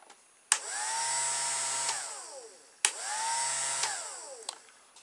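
A small battery-powered fan, hot-glued in place, whirs close and fairly quiet in two bursts of a couple of seconds each, its pitch sweeping as it spins up and down, with sharp clicks at each start.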